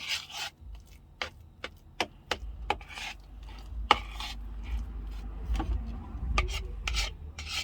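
Cake batter folded by hand for a red velvet cake baked in a mini rice cooker: soft scraping and rubbing strokes against the bowl with irregular light clicks, close and quiet, no talking.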